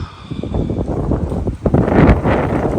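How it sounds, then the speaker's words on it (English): Gusty wind buffets the microphone with rough, uneven rumbling that swells and fades, with faint rustling underneath. "Very windy out today"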